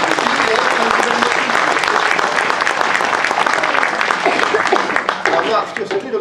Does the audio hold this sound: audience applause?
yes